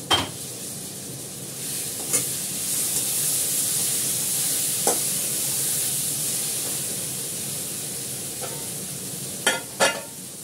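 Ingredients with garlic, coriander leaf and green chilli paste being stir-fried (kosha) in a pan, a steady close sizzle under scraping stirs and a few sharp clinks of the spatula against the pan, no voices.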